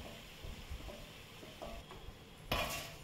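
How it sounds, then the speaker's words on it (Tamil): A spoon scrapes and stirs fried onions into a sizzling tomato masala in a pan for Thalassery-style Malabar chicken biryani, with soft frying and a few clinks, ending in a louder scrape and burst of sizzle. "அதை சேர்த்து நல்லா கலக்கி விட்டு இப்போ வதக்கிடலாம்."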